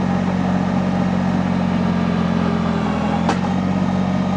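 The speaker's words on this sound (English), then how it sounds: "You can hear the engine start to drag a little bit." A Countyline PHD100 post hole digger engine runs steadily and loudly, droning as it drags while boring into clay, with one brief sharp click near the end.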